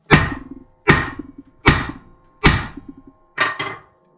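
An old rusty hammer pounds a metal rebar stake in five sharp, loud, ringing blows spaced evenly, the last two coming quickly together, with no talk.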